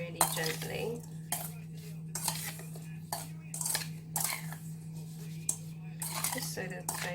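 A spoon gently mixing strawberries in a bowl, with soft repeated clinks and scrapes close by over a steady low hum.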